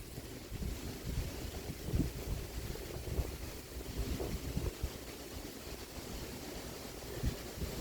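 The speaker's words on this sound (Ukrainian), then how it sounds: "то вітер знімається" Wind blows steadily on an evening outdoor walk, a continuous broadband rush with low buffeting gusts against the microphone, loud and unbroken throughout.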